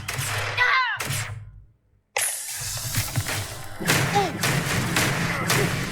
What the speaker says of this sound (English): There's just so much explosions.